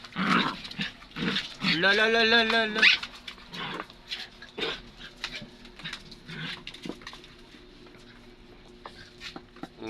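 Dogs bark and growl nearby in a home, with a sustained whining howl early on and scattered barks afterward, mixed with people talking.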